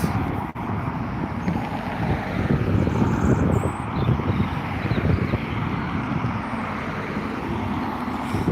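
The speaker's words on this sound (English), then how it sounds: "There it is, taking off to Manchester." A Ryanair Boeing 737 MAX 8 departs Dublin Airport for Manchester, a sustained broad jet roar heard from a distance with wind buffeting the microphone throughout.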